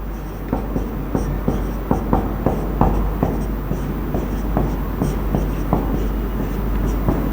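Chalk or marker taps and scratches across a board in a quick uneven run of short strokes, close and fairly clear over a low steady background hum.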